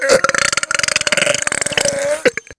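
A long, loud rumbling burp rolls on for over two seconds as a rapid train of croaky pulses, ending with a short final belch.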